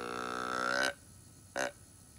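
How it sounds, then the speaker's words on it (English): Handheld deer grunt call blown by a crossbow hunter, giving a long, low, burping grunt followed by a second short grunt, close and clear with no voices. "a grunt call sounds like this."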